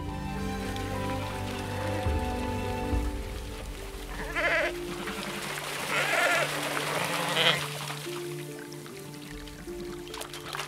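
Sheep bleat several times over a steady background with some music-like tones, calls rising in a cluster midway through.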